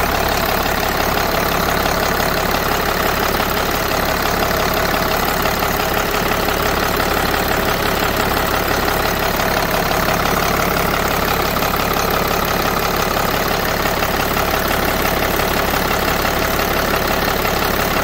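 A truck's Caterpillar C7 diesel engine runs steadily at idle for the whole stretch, a loud, continuous broadband drone with a faint knocking texture and no talk over it.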